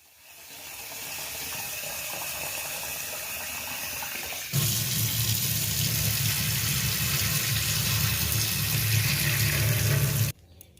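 Tap water runs steadily into a sink as puja utensils are rinsed, with a gentle flow that turns into a louder, fuller gush partway through before it cuts off at the end.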